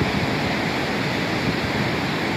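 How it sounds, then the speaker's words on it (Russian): A raging mountain river in Kyrgyzstan near Belogorka roars as a dense, steady broadband rush of churning water, loud and constant, with no voices. "Так река бушует."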